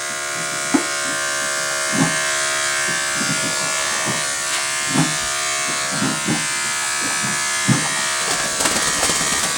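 Electric horse clippers buzz steadily up close beside a horse, a constant motorized hum with intermittent soft knocks and shifts in tone as they move.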